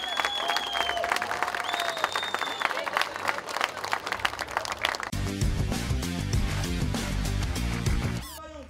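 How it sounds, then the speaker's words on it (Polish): Crowd applause on an outdoor festival stage in an old-town square after a women's handball team is introduced, dense clapping mixed with chatter, then loud amplified music bursts in and carries on under the claps. "Wielkie brawa!"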